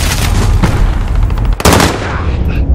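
Loud, dense gunfire from the video game Call of Duty: Modern Warfare, with rapid automatic bursts running almost continuously and one sharper, harder blast partway through.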